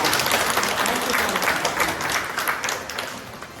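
Steady, dense applause from a room of teachers on the final day of a CCE training session, honouring the female instructor; the clapping holds at an even level throughout without a break.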